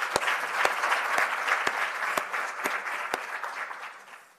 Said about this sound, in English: All right, another round of applause to Session 4 cohort.